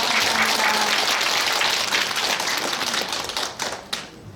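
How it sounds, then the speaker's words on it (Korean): Loud, dense applause from a large assembly at a Buddhist temple dharma ceremony, sustained and then thinning toward the end with a few scattered claps standing out. "큰 박수 다시 한번 부탁드리겠습니다"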